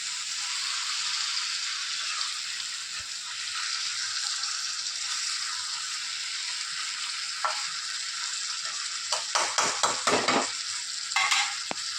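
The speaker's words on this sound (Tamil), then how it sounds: "நாம் கொஞ்சம் கிளறி கொடுத்துட்டே இருக்கணும்" Egg masala sizzles steadily in a frying pan while being stirred, with a few sharp scraping strokes of the spoon near the end; no one speaks.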